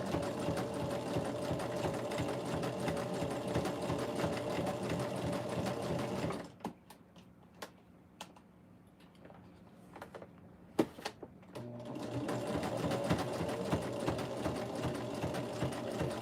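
A sewing machine stitches along a fabric edge in two sustained, steady runs, with a short pause between them filled with faint clicks and handling noises, loud and close with no talking.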